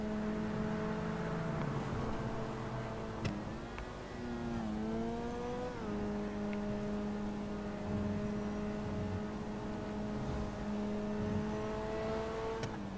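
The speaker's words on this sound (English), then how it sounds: "I love the sound of this car." A car engine hums steadily while driving on a motorway, with a clear tonal drone that shifts pitch as gears change and speed rises, heard from inside the cabin.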